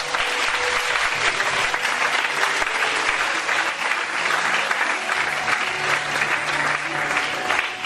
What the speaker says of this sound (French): On peut acclamer Dieu pour lui.